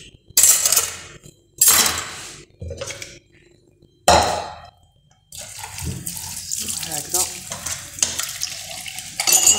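Dishes are washed under a running kitchen tap. Short loud gushes of water come in bursts with quiet gaps, then settle into continuous splashing mixed with clinks and knocks of crockery.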